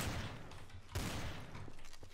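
Rapid gunfire bursts in the multiplayer game Trouble in Terrorist Town, a loud continuous volley with a sharp renewed burst near the midpoint, close and dense with no talk.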